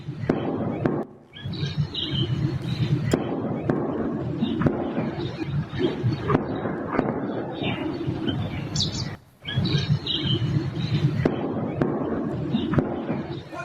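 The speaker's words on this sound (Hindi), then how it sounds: "सुनिए जरा गोलियों की आवाज।" Rapid sharp cracks and pops of gunfire burst repeatedly over a noisy background, with a few brief lulls between volleys.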